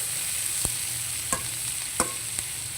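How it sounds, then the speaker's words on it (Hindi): Chopped onions and green chilies frying lightly in a pan for bhindi sabzi, a soft steady sizzle close by, broken by a few sharp clicks of a spoon stirring against the pan. "ये मिर्ची डाल देती हूँ और इसको इनको ना बस हल्का सा फ्राई करना"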